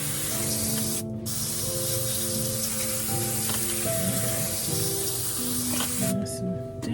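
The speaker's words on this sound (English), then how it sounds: "I'm literally just going to mist that whole tray just to add a bit of moisture." A seedling tray misted with a water spray, giving a continuous loud hiss of fine spray that runs the whole time, with brief pauses, close by and alone.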